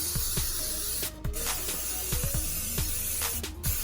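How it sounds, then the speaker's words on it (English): Short bursts of cooking oil spray hiss in quick succession onto a grill and its lid, interspersed with light clicks and clanks of metal, close and fairly loud. "And now we spray the lid."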